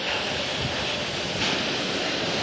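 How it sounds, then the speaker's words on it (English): Space shuttle launch pad sound suppression water system at the STS-130 launch, a dense continuous rushing roar like heavy water flow or wind, heard from a distance without voices. "The sound suppression water system has been activated."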